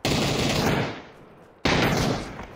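Video game gunfire in School Survivor: two loud, close bursts of rapid automatic shots, the first trailing off into a decaying echo before the second begins.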